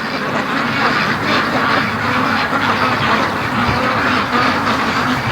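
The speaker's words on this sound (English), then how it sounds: "she's walking with my ducks" Free-range ducks quack continuously in a backyard pen, a dense, steady chorus of close calls with no talk over it.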